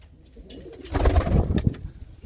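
Red Cheena pigeons coo softly at close range, a brief low burbling call that swells and fades.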